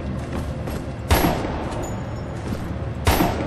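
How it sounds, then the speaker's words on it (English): A tank firing in the Army Men video game, with two heavy booming shots about two seconds apart over steady game background noise. "Is it a tank? Must be a tank. Yeah, sounds like it."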